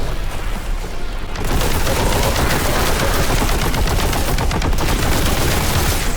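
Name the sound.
heavy bolter gunfire in video game Warhammer 40,000: Boltgun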